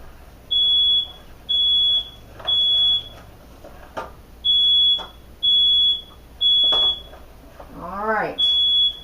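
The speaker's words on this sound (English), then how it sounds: "I guess you can hear the annoying smoke detector going off" A kitchen smoke detector beeps in a regular series of loud, shrill tones, about eight evenly spaced pulses, close by, with a brief clatter between beeps.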